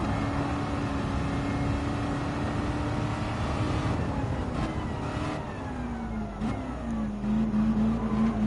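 Historic sports car engines racing in Gran Turismo 7, with a Ferrari 512 BB and Lamborghini Countach in the field, droning steadily and shifting pitch as gears change, moderately loud with no speech.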